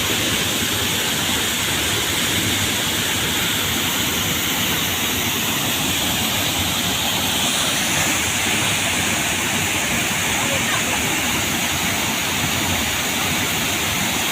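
Gundicha Ghagi waterfall near the Maa Tarini shrine at Ghatagaon, Odisha, roaring in a steady, loud broadband rush that stays unbroken throughout, with no voices over it.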